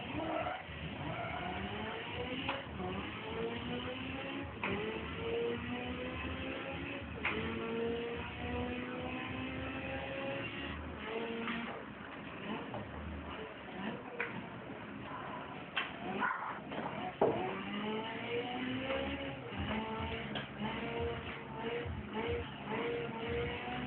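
A racing car's engine in the video game Project Gotham Racing 3, played with a wireless steering wheel, revs up and down repeatedly in rising and falling sweeps, loud and continuous, with occasional skids and clunks.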